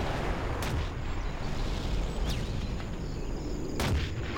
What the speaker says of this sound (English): Tomahawk launcher armed and ready